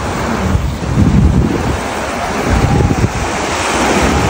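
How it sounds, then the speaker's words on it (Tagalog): Ocean waves wash continuously onto a beach, close by and loud, in a broad roaring surf with heavy wind buffeting the microphone and no voices. "Napakalupit po ng dagat."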